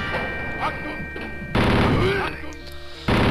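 A chain gun in Wolfenstein fires rapid bursts, loud and close, in two sustained volleys separated by a brief lull with game sounds between.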